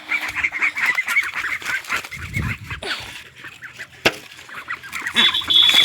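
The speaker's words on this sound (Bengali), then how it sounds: "আমি এখানে আমার হাঁসদেরকে খেতে দেবো" Ducks being fed quack and honk close by, a busy run of overlapping calls with scattered clatter.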